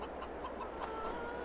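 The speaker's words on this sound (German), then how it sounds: "Hier ist Hühnerstall, ne?" Chickens clucking at a coop in the farming game Farming Simulator 22, a few soft repeated clucks over a steady ambient farm background, close but fairly quiet.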